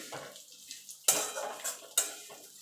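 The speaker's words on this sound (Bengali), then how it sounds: "এবার ভালো করে আমি সিমইটাকে লাল লাল করে ভেজে নেব।" Vermicelli being fried in ghee in a pan, heard as a few sharp metal clanks and scrapes of a spoon against the pan, each fading into a faint hiss.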